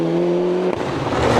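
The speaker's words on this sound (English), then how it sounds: "he tenderfoots his Lancer to the finish of the mountain stage" A Mitsubishi Lancer Group N rally car driven gently toward a mountain stage finish on slick tyres, its engine a steady droning hum that shifts pitch midway as the throttle changes.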